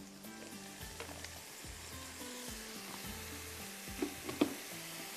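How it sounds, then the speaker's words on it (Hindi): Ground masala sizzles steadily as it fries in a pan of boiled mutton, with occasional stirring scrapes and a few louder spatters toward the end, no voices present. "और इसको बहुत अच्छे से भूनना है"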